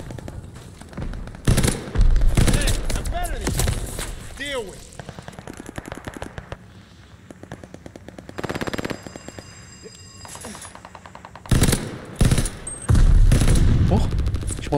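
Gunfire in the video game Call of Duty: Vanguard, with pistol shots and rapid bursts cracking in loud clusters between quieter stretches of game ambience, and someone talking at times.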